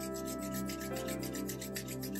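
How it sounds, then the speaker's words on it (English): Palms rubbed quickly together, a continuous close, loud rasping friction with a fast rhythmic swish, filling the whole short moment without any talk. "now lower your hands and rub them quickly."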